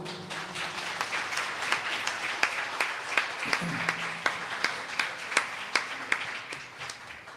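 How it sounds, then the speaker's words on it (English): An audience at a book presentation applauds guests on stage, a dense, steady wash of many hands clapping from a moderate distance, with sharper individual claps standing out rhythmically and faint murmuring beneath. "let's go ahead and give our guests on stage a round of applause"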